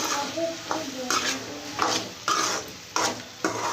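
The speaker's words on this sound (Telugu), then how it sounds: "కొద్దిగా ఆయిల్ వేసుకున్నాను కాసేపు మగ్గలిద్దాం చూడండి ఈ విధంగా వేగితే చాలు" Cucumber chutney ingredients frying in a little oil in a pan, stirred with a utensil that scrapes and clinks against the metal in a regular rhythm of roughly half-second strokes over a soft, continuous sizzle, close and fairly loud.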